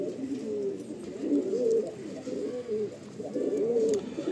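Madrasi pigeons in a loft coo continuously in low, warbling rolls, several birds overlapping at close range with no talk.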